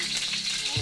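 Bacon fat hits a hot wok and sizzles in a dense, even hiss that fills the whole short moment, close and fairly loud.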